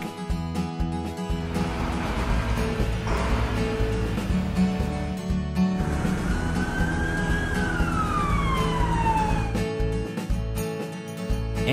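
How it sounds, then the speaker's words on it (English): Brush truck siren from an animated children's cartoon, a loud electronic wail rising and sweeping down over roughly twelve seconds, layered over busy music and effects. "Brush truck."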